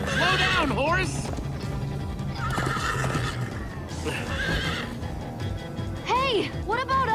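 A horse in the Minecraft: Story Mode video game whinnies loudly several times in bursts while hooves gallop beneath, close and continuous, mixed with a game soundtrack.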